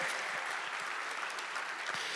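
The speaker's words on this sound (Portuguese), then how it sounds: "Dê uma salva de palmas a Jesus e fique de pé." A church congregation claps for Jesus during a sermon, steady dense applause from many hands filling the room at an even level throughout.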